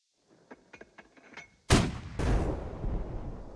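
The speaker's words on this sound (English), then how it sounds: "Looks like the mortar shells coming in." Two loud mortar shell explosions in the WW2 turn-based tactics game Burden of Command, a heavy blast followed closely by a second, preceded by several faint distant thumps.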